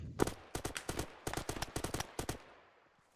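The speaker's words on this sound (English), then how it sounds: "They started shooting at us." Bursts of automatic gunfire in the Arma military shooter during a night co-op mission, a rapid string of sharp cracks in uneven clusters, fairly close and clear, then fading to quiet after about two and a half seconds.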